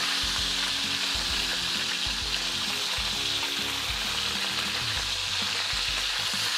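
Short ribs sear in a hot pan with a loud, continuous crackling sizzle, punctuated by low thuds and bumps as the meat is shifted around.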